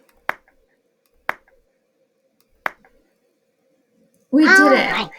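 Three sharp, isolated claps sound at uneven intervals in a quiet room, given as a clap for a Dash robot program. A voice speaks briefly right after them.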